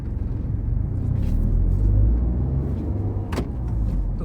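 A car pulls away under hard acceleration, its engine rumbling loud and close with a steady low drone that swells and holds through the run, heard from inside the cabin without talk.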